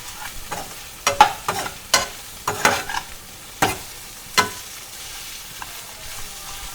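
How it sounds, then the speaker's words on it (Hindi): Crushed potatoes for Garhwali aloo thichodi frying in a pan over low heat, a soft sizzle broken by a series of sharp scraping stirs that fade out toward the end. "इनको 5-10 मिनट के लिए इसमें फ्राई होने देंगे कम आंच में"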